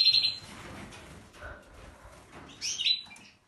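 Male canaries in an indoor aviary give short, bright chirps and trills in two close bursts, at the start and near the end, with quieter rustling and soft movement between them.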